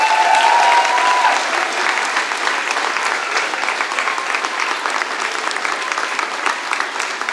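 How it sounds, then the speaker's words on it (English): A school audience at a Peter Pan Jr. production claps in a full, sustained round. The even applause carries on at a steady level, with a brief whistle-like tone near the start. "So one more round of applause, please."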